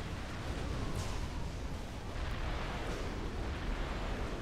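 A tactical missile strike in Supreme Commander erupts in a dense, rumbling roar of explosion noise, sustained and fairly loud, with a couple of faint swelling whooshes riding over the continuous blast texture.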